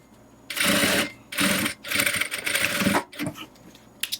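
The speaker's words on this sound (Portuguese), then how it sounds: "Aqui eu acabei de costurar isso aqui do lado do avesso." A sewing machine stitches fabric in several loud, close bursts of rapid whirring, separated by short pauses as it stops and restarts.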